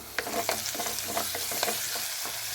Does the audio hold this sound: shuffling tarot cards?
no